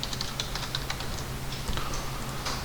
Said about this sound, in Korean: C 엔터 그 다음에 3P 엔터 치시면 돼요